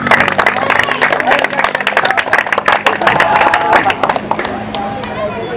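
A crowd at a rugby team's uniform presentation bursts into loud, sustained applause, dense clapping that gradually thins, with voices mixed in.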